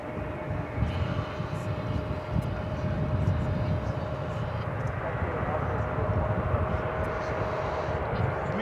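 A Boeing 777 airliner at Dallas/Fort Worth Airport produces a continuous, dense low jet rumble that stays steady and moderately loud, with slight swells in intensity.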